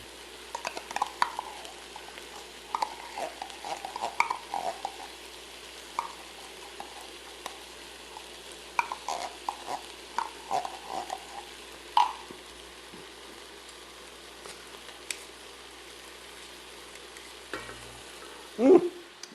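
Onions and tomato paste stirred and frying in a pan over medium heat while a German-style braised chuck roast is prepared, with soft crackling sizzle and intermittent scraping stirs. A louder clatter comes near the end.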